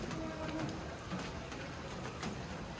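Steady rain falling at Ponmudi hill station, a dense continuous hiss of drops on surfaces throughout with no pauses.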